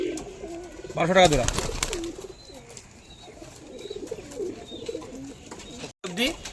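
Giribaj and Madrajee pigeons for sale coo in soft repeated rolls near and far while someone talks over them, with a brief clatter partway through.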